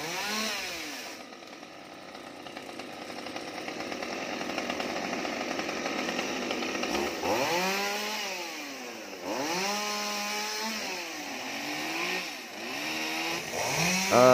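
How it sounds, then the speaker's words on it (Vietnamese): A chainsaw cuts through a large branch of a big xà cừ (mahogany) tree above a roof, its engine droning steadily and loud, with repeated rising and falling revs as the chain bites into the wood. "cưa cái nhánh này nha các bạn"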